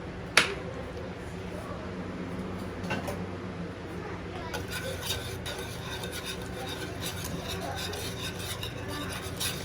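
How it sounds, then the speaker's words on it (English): A whisk scrapes and rattles through a pot of pudding mixture as cream cheese is stirred in, giving a sharp clink at the start and then continuous soft rubbing strokes against the pot. "I'm going to get my whisk back out and whisk it so it'll mix up better"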